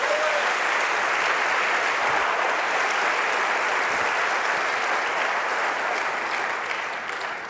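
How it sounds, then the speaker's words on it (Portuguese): A church congregation gives a long, steady round of applause in praise of the Lord. The clapping is dense and sustained, filling the hall for several seconds before easing off slightly at the end, with no speech. "dá uma salva de palmas para o Senhor"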